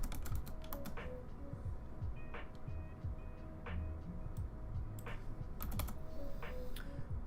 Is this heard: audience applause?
no